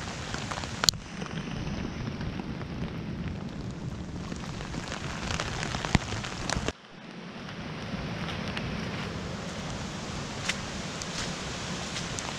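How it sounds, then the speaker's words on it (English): Heavy rain pours onto a tent during wild camping beside a river, making a dense, continuous drumming hiss with occasional louder drops. There is a brief gap partway through before the downpour resumes. "Look at this rain."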